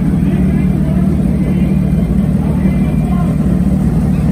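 A Suzuki Hayabusa and an old-school Kawasaki KZ drag motorcycle idle and rev at the start line of a drag strip. The low engine rumble is steady and loud, with talk running over it.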